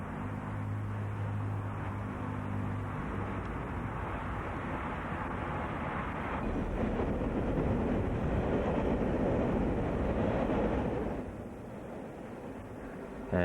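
A broad-gauge container train from Bandiana near Wodonga passes close by, a steady, loud rolling roar of wagons on rails that builds and then eases off near the end.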